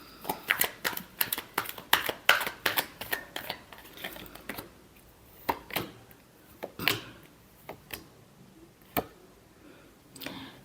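Tarot cards being shuffled close by, a quick run of crisp riffling snaps and taps that thins out into scattered single flicks.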